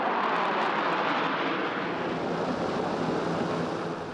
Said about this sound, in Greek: καθώς τον διέσχισαν μαχητικά αεροσκάφη Ραφάλ, F-16, Μιράζ, αλλά και ελικόπτερα Απάτσι, Καϊόβα, Χιούι και Σινούκ σε άριστους σχηματισμούς